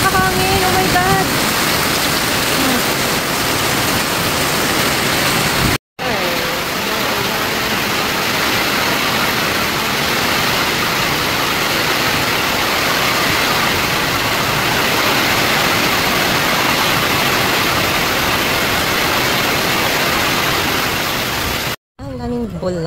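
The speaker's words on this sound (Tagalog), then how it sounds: "Lakas ng ulan sa hangin." Heavy rain driven by strong wind roars as a dense, steady wash of noise, loud and close, with brief cuts and voices faintly present.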